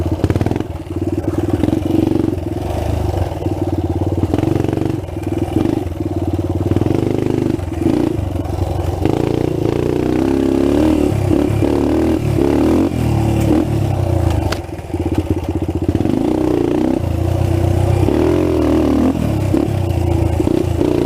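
A restored trail bike engine bogs in third gear, its loud, uneven motorcycle drone stuttering and struggling. Rough clattering and scraping run through the rising and sagging revs.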